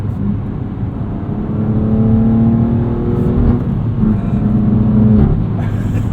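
A 2021 BMW M2 Competition with a six-speed manual, driven in efficient mode with the exhaust kept quiet, gives a steady, muted engine drone and a soft whir that rise a little in pitch partway through.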